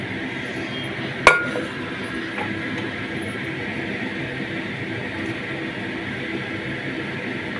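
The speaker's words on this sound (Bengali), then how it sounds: "এবার আমি ঢাকা দিয়ে দেবো" A lid goes onto a cooking pot of chana dal with hing and potato: a single sharp metallic clink near the start, then a steady low hiss of the stove with no voice.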